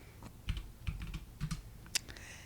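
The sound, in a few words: pressing keys on a computer keyboard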